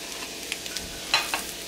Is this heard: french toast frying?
yes